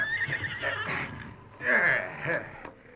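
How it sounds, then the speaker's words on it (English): Horses in a snowy barn whinny loudly and nearby, two drawn-out neighs with a shuffling of hooves beneath them. "Soon the horses were made comfortable in the barn."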